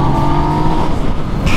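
A Yamaha MT-09 motorcycle engine running steadily on a ride, a loud close drone with even tone, alone with no talk, a brief burst of added noise at the end.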